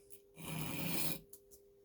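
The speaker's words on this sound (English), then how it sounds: "I'm gonna take sandpaper again, very slowly remove the burr" Sandpaper rubs the burr off a handmade steel chef knife blade in one slow, raspy stroke, followed by a couple of faint short scrapes, close and quiet.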